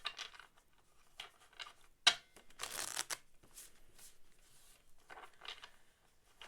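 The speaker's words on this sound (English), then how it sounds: "Just some good shuffles." Tarot cards are shuffled close up in a quiet room. Several crisp riffling bursts arrive in short clusters with brief pauses between them, and one louder snap marks the middle.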